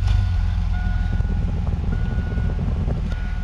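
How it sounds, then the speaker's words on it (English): A 1999 Chevy S10 pickup fitted with a hydroxy booster system runs with a loud, close, steady engine rumble, while intermittent beeping tones sound over it. "I'm gonna go ahead and turn on the truck here."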